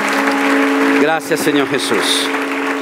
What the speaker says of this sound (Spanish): te damos un aplauso con todo nuestro corazón